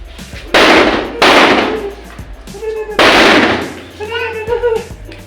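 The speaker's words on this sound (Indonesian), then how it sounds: "ini adalah kembang api yang merupakan menyambut hari raya lebaran ketupat" Loud fireworks set off for the Hari Raya Ketupat celebration early in the morning, three sharp booming bursts with crackling tails, while people talk and exclaim in between.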